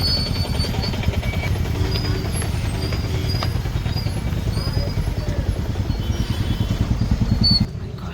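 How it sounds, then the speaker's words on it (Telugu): Heavy traffic on a hill road between Araku and Lambasingi, a continuous loud rumble of engines with motorcycle and bus-like drone close by and faint horn tones, ending with a brief drop. "హ్యూజ్ ట్రాఫిక్ చూడండి."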